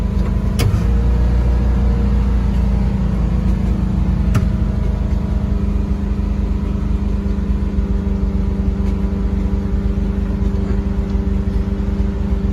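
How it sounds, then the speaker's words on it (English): A 1972 VW Westfalia engine revving out of control, a loud, sustained high idle with a steady droning hum and a couple of sharp clicks near the start, no talking. "we've got this out of control revving"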